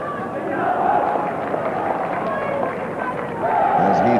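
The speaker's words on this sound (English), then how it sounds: "Crowd, nearly all Pakistani supporters, they're loving it." A stadium crowd, almost all Pakistani supporters, cheers at Sharjah during the 1994 Pakistan v New Zealand cricket semi-final, a dense roar that never lets up and swells near the end under a commentator's voice.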